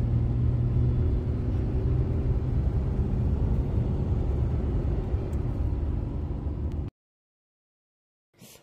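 An Audi RS4 B5 with a freshly rebuilt engine idles, a loud steady low rumble close by that holds for about seven seconds before cutting off abruptly.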